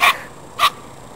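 A tiny puppy gives two short, high, sharp yips about half a second apart, close and clear against quiet outdoor background, with no talking.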